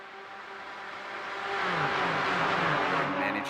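Race cars lapping Bathurst in the iRacing sim, a steady engine drone that swells louder after the first second and holds as a dense, whirring roar of several cars running together.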